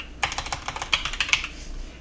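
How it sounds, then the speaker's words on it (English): Typing on a computer keyboard, a quick irregular run of close, crisp key clicks, alone. "And then I continue typing"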